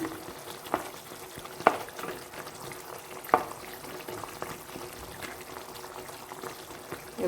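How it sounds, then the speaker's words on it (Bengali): Prawn malai curry with garam masala simmers and bubbles in a pan, a steady close hiss of boiling sauce broken by a couple of sharper clinks or pops. "ভালো করে ফুটিয়ে নেব।"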